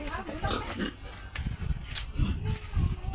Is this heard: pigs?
yes